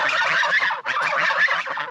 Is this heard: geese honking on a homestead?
yes